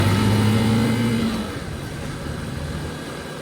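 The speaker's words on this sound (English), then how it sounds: "But luckily we got the motorcycle, so let's keep going." Motorcycle riding along a street in Mérida, Mexico, its engine loud and steady at first, with a tonal drone that fades after about a second and a half into rougher road and engine noise.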